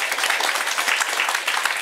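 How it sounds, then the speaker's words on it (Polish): A concert audience at a youth singing studio show claps for an electric guitarist, a brief, dense burst of applause. "Brawa."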